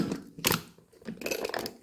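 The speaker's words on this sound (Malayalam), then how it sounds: "അപ്പോൾ നമുക്കിനി കുക്കർ അടച്ചടപ്പത്ത് വയ്ക്കാം." A stovetop pressure cooker lid is set on and locked shut while cooking jackfruit seeds in a Kerala kitchen, giving a few close metallic clicks and clatters with a sharp clank near the middle, with no talking.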